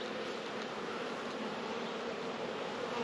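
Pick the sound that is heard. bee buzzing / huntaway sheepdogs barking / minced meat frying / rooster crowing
bee buzzing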